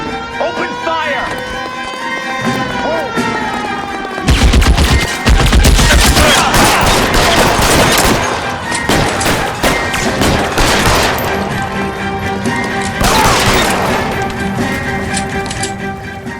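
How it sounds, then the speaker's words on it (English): A shootout in L.A. Noire brings loud, rapid bursts of gunfire and running footsteps, with orchestral music and people talking over the action. "These guys aren't going to go quiet. Open fire!"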